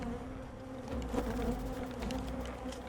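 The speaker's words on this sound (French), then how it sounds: "They're definitely not friendly bees." A swarm of bees buzzes loudly and continuously, a dense droning hum with close wingbeat tones that rise and waver throughout, and no voices.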